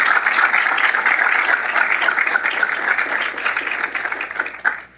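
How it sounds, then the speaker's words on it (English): An audience at a conservative policy event applauds for Dr. Feulner, a full, lively burst of clapping that holds steady and then tapers off sharply at the end. "So round of applause for Dr."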